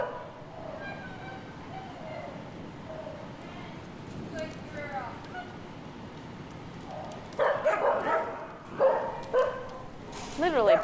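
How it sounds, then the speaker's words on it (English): Several shelter dogs bark and yip repeatedly in an echoing indoor animal shelter, growing louder toward the end, with a person talking over the noise. "Yeah, he's barking. Everybody else is barking."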